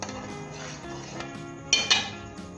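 Metal utensils clink and scrape against a pot as thick pizza sauce is dished out, a few close clatters and a brighter knock near the end, with no talking.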